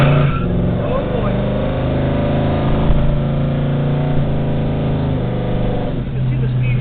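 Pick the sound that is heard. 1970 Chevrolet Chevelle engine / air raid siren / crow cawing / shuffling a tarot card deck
1970 Chevrolet Chevelle engine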